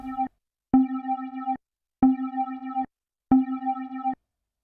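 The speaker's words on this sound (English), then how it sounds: "So I'm going to add a low pass filter now and leave the settings as they are," A synth lead patch run through a low pass filter that strips the top end plays four sustained notes, each about a second long with short gaps, in a clean, mellow tone with no voices.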